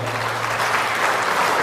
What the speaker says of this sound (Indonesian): Tepuk tangan juga untuk beliau.